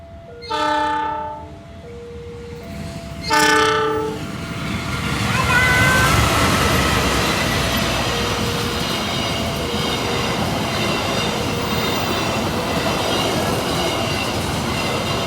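Two loud, sharp horn blasts from a train near the Kebasen station level crossing in Banyumas, then a heavy passing roar with screeching wheel squeal and rolling clatter close by.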